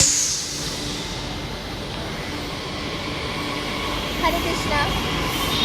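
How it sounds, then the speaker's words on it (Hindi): A Delhi metro train pulls in with a steady low rumble and whine, while people talk nearby and a voice chants over the sustained train noise. "हमारी मेट्रो आ गई"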